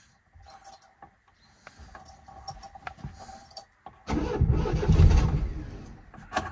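A car engine with its ignition timing set too far advanced cranks for several seconds under mechanical clatter, then catches and roars loudly into a rough, close run.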